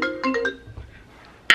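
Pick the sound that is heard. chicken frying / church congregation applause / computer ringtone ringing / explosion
computer ringtone ringing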